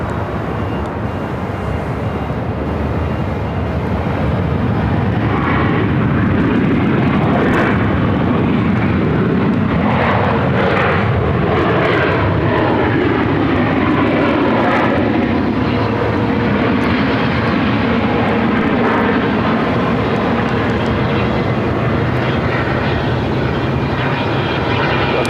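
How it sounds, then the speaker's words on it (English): Southwest Boeing 737 MAX 8 arriving at Phoenix airport from Portland, a loud jet roar that builds and passes close by, with a sweeping, shifting whine as it goes, then a sustained rumble that slowly fades. "Southwest Flight 396 coming in from Portland on a MAX 8"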